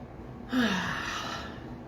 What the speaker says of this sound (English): So a few deep breaths.